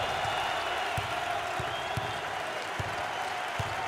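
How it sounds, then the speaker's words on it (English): A basketball crowd at a Kansas vs Baylor Big XII tournament game cheers and applauds in a steady, dense roar, with scattered claps and low thumps punctuating the noise throughout. "And the fans are going wild."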